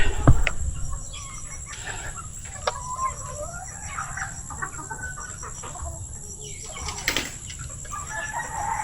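Heritage chickens cluck softly and intermittently at a farm, with occasional sharp wing flaps and a steady background hum throughout.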